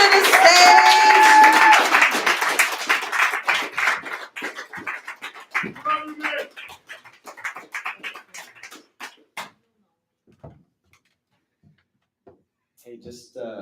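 Audience at a Black History Month poetry night applauding and cheering as a poet heads to the stage, loud at first and then fading into scattered claps and murmurs before near silence.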